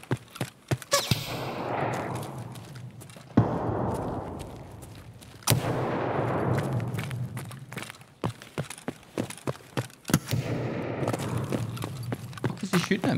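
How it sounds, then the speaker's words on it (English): Gunfire in the shooter game Escape From Tarkov: rapid cracking shots in bursts, some near and loud, others sharp and scattered, over a rushing ambient background with pauses between volleys. "What is he shooting at me from?"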